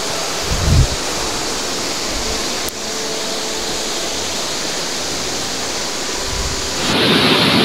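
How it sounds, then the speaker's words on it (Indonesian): Steady broadband roar of the flooding Bogowonto river rushing past a riverside hamlet, a continuous loud wash of water with brief low thumps and a slight rise near the end, no voices. "ini saya sedang berada di Sungai Bogowonto ya teman-teman, dan ini sedang banjir"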